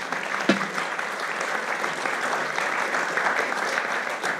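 An audience at a debate on inflation and politics breaks into dense, even applause that holds steady throughout, with no voices over it.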